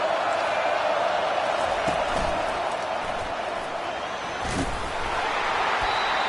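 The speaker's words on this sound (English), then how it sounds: "Fans are bringing the noise on 1st and goal." A football stadium crowd roars loudly and continuously on first and goal, a dense wash of cheering with no clear breaks, and a few muffled thumps underneath.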